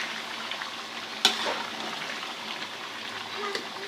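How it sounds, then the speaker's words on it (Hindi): Three quarter-kilos of tomatoes for biryani fry in a pot with a soft, steady sizzle and a sharp clatter of a utensil, with a quiet voice faintly in the background. "3 पाव टमाटर हमने इसमें शामिल कर दिए हैं"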